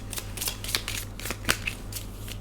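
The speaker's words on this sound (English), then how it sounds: "I started shuffling in the microphone" Tarot cards are shuffled right against the microphone in a series of quick riffling bursts and soft slaps, close and crisp over a low steady hum.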